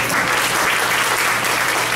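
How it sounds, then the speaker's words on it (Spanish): A church congregation claps together in steady, dense applause, loud and continuous throughout with no pauses. "¿Cuántos dan un aplauso al Señor?"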